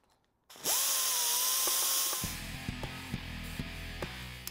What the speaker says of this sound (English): I'm gonna grind out the inside with a die grinder until they fit on and off